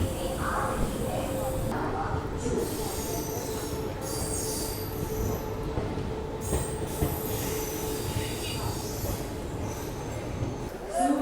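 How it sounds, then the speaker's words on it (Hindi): The Suryanagari Superfast Express rolls into platform 2 at an Indian station with squealing wheels and a steady rumble of rail cars throughout, while a voice announces the train over the noise. "आने वाली सूर्य नगरी सुपरफास्ट एक्सप्रेस प्लेटफॉर्म नंबर 2 पर थोड़ी ही देर में आ रही है"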